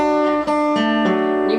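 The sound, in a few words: guitar playing a riff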